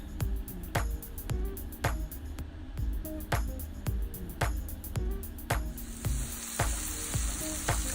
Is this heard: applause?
no